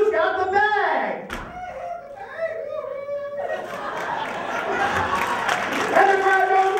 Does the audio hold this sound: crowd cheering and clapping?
yes